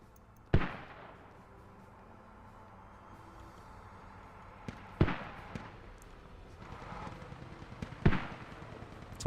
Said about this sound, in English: So they've had enough of these mortars.